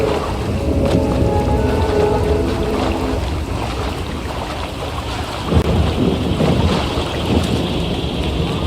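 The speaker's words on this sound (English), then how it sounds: "Storms are fierce today." A fierce thunderstorm in the SWTOR video game, with steady heavy rain hissing throughout and deep rolls of thunder building and rumbling near the middle, loud and continuous with no voices.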